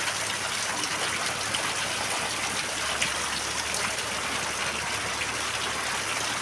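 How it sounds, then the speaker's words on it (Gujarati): Steady hiss of heavy rain pouring down in Patdi, dense and unbroken throughout, with no voices. "તો કેટલો વરસાદ પડે છે"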